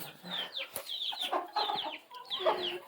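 A hen clucks close by in a series of short, repeated calls with uneven pauses between them, fairly clear against a quiet background.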